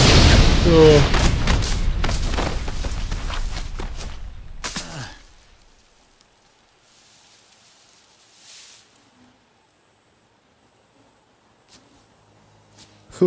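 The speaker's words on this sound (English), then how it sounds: "that explosion." A loud explosion in the Sonic 06 video game: a dense, booming blast in the opening seconds that decays into near silence, with only faint scattered sounds and a final thump afterward. Laughter and talk overlap the blast.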